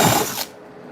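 A power drill turns a pre-drill bit into material on a live building job, a loud brief whirring burst that cuts off abruptly before half a second and leaves near silence.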